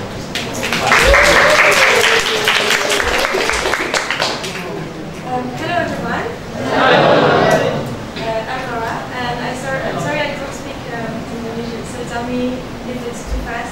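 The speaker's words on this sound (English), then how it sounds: "So just clap." Audience clapping greets a Mozilla researcher at a guest lecture, bursting in loudly at the start and again midway, while a voice talks between and over the claps.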